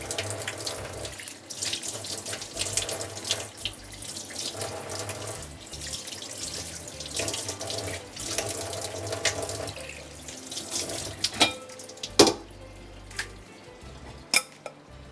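Tap water runs steadily into a sink while raw chicken thighs are washed by hand, with occasional clinks of dishes and a few sharp knocks toward the end.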